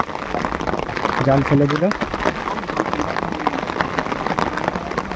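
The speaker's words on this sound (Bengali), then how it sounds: "বৃষ্টি পড়ছে" Steady rain falls on a Sundarbans river during cast-net fishing for shrimp, making a dense, even patter that lasts throughout. Someone talks over it and a short splash or scrape stands out briefly near the start.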